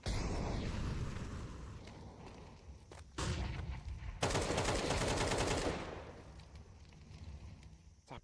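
AK rifle shots from a Counter-Strike esports match in the CCT Europe series, fired as sharp taps and a dense rapid burst that fills the middle of the stretch, with softer game ambience and scattered footsteps before and after.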